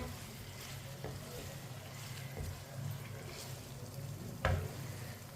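Garlic, onion and finely chopped green chillies fry in a pan for chicken rice, giving a quiet, steady sizzle with a few soft knocks of stirring and one sharper clatter near the end.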